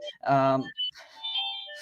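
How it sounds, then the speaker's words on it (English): A phone ringtone plays a short melodic tune like a Little Mermaid song: bright tonal notes in quick succession, close and fairly clear, with possible voices mixed in. "That's a terrible ringtone. My missus done it. It's like the Little Mermaid or something."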